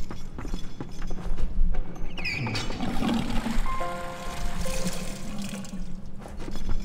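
Water pouring into a pot in the Valiant Hearts video game: a running splashing stream of moderate loudness over background game sounds and short tonal chimes, no talking.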